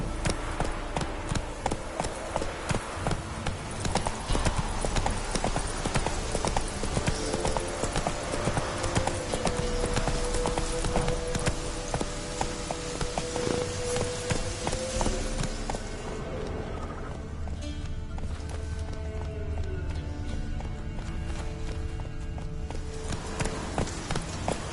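Horse Roach from The Witcher 3 trots steadily with rapid, rhythmic hoof clip-clops, loud and close, over continuous game ambience and music; the hoofbeats thin out in the last seconds.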